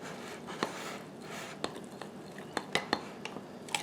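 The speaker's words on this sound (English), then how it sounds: "my melted butter. Let's just stir this up." A utensil stirring melted butter in a dish for a keto blackberry cobbler, quiet scraping punctuated by a handful of sharp clinks against the container at irregular intervals.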